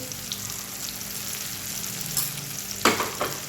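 Tomatoes frying in a pan with turmeric and cumin make a steady close sizzle, with a brief stirring scrape near the end and no talk.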